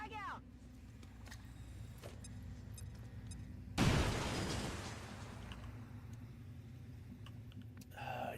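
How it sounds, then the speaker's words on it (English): A frag grenade in XCOM 2 blows open a wall with one sudden loud blast and a long rumbling, crumbling tail, set among clicks and faint game noise. "You can throw a grenade at it, though."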